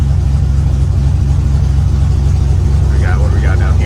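An old engine with a mostly open exhaust runs on a cold day, putting out a loud, close, steady low rumble at idle. A brief voice comes in faintly near the end.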